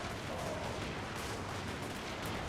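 Dwarf artillery in a Skaven siege battle game, with dense, continuous rumbling booms and blasts from a distance blending into one heavy, unbroken roar of gunfire.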